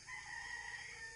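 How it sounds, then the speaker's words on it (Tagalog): A single rooster crow rings out from a distance, drawn-out and faint, with nothing else around it. "Tilaok ng manok yan."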